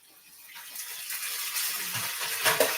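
Steak and potatoes being stirred in a skillet, heard as a sizzling hiss that swells from quiet to loud, with a few scraping clicks near the end and no talking.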